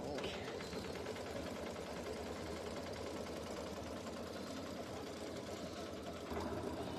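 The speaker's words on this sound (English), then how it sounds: "I'm going to press set and embroidery, and I'm going to stitch my first placement line" An embroidery machine stitches a placement line for quilt batting on a Kimberbell quilting project. It gives a continuous fast mechanical whirring chatter at moderate level, with faint background voices mixed in throughout.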